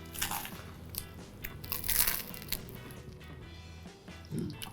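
Crisp, close crunching bites into homemade Turkish pide with a browned, crusty bottom and ingredient-packed filling, several crackling bites and chewing with no talking.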